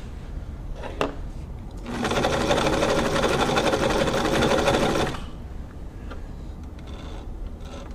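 A Brother VX757 sewing machine runs a test stitch in one steady, close burst of about three seconds, its needle whirring rapidly before it stops, with no talking.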